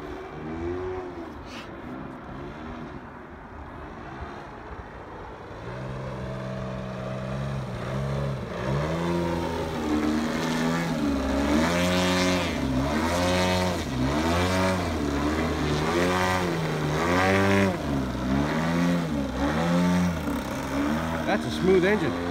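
A ZDZ 112 RV rotary-valve two-stroke model aircraft engine runs steadily and loud, its pitch rising and wavering in repeated surges, with people talking over it.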